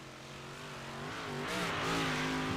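A race car driven around the track by Jesse Wall, engine note droning steadily then climbing as it accelerates and draws nearer, heard from a distance without talking.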